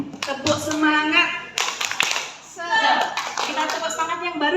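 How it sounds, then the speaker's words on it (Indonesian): Children clap a rhythmic cheer pattern in a group, sharp bursts of hand claps coming in uneven clusters with voices mixed in, loud and close, with a brief lull midway. "Baik, kita tepuk semangat dulu ya. Tepuk semangat."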